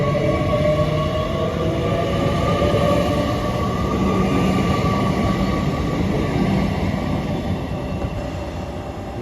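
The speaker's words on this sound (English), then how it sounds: "Great Western Railway service from Bristol Temple Meads to London Paddington" A Great Western Railway train, a Bristol Temple Meads to London Paddington service, departs Didcot Parkway with a steady, loud rumble of wheels on rails and a low engine drone that continues unbroken throughout.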